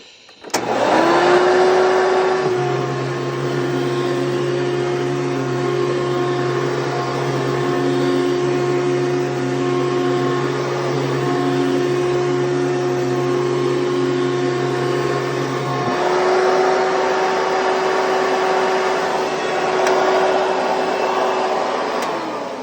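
A Hoover Dimension Dirt Finder upright vacuum cleaner roars to life and runs loud and steady up close, its motor whine holding a strong tonal drone that shifts pitch slightly partway through.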